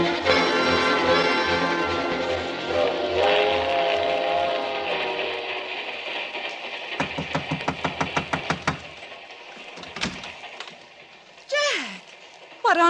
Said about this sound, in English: Peter's on this train, too